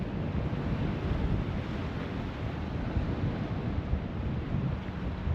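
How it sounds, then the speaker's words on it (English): Steady wind roaring across the microphone on the coastal rock ledges at Fontygary, South Wales, a constant broad rush with slight gusts and no voices. "It's a bit blowy, windy"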